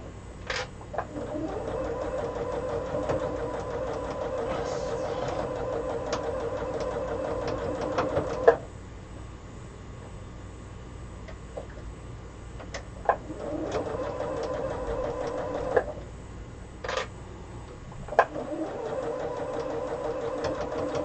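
A sewing machine runs a quarter-inch seam on a Quilts of Valour quilt block, whirring in steady bursts with short pauses and a few sharp clicks between runs, close and fairly loud.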